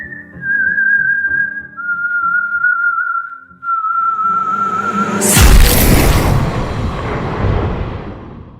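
An eerie whistle of the legendary whistler drifts through a few long, steadily descending held notes, then a sudden loud boom bursts in and rumbles away.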